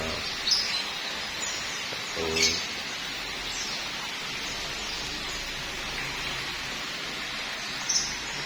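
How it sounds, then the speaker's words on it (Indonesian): Small birds and pudok birds in the garden of a semi-modern Javanese house give a few faint, brief chirps over a steady hiss of outdoor background noise. "Burung-burung kecil sama burung pudoknya."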